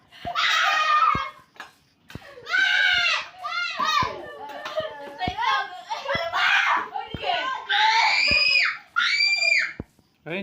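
Children shriek and scream in loud, repeated high-pitched bursts, mixed with excited chatter and giggles while they play Minecraft indoors, with sharp clicks between outbursts.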